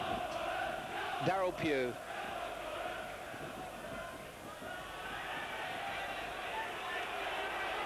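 Football crowd noise at a 1986-87 Rotherham United v Middlesbrough match, a steady broad roar filling the ground throughout, with shouts and a commentator's voice speaking over it.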